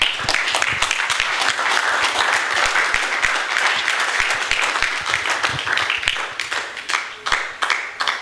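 Congregation clapping hands during a church sermon, a sustained, dense patter of many hands at close range, steady and loud, tapering slightly near the end.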